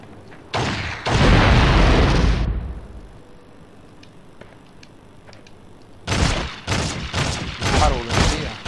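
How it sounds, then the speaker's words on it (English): Gunfire in Fallout: Brotherhood of Steel, loud booming blasts at the start, a quiet stretch with small clicks, then a run of heavy, close shots at the end. "I almost feel bad for shooting him."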